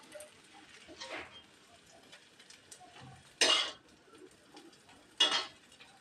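Cooked potato filling scraped from a pan onto a plate, a few soft scrapes followed by two sharp metallic clinks of a utensil against cookware, close and quiet in a calm kitchen.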